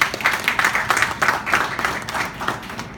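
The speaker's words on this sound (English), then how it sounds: "Please, can we give them a round of applause?" Audience applauding at a conference hall event, steady clapping from many hands that swells and holds for a few seconds before tapering slightly.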